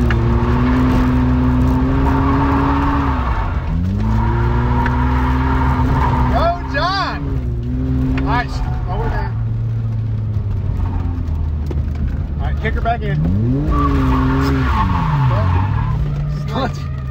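A car drifts at a drift event, its engine revving and rising in pitch while the tires squeal in repeated swooping bursts, close and loud, with a voice talking over it.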